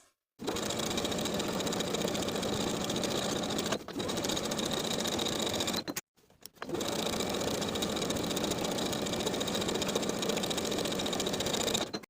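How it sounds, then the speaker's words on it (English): A sewing machine runs top stitching along a dress seam allowance, a loud steady mechanical whir that pauses briefly near four seconds, stops around six seconds, then resumes for a long continuous run. "I'm going to top stitch to sew that seam allowance down flat"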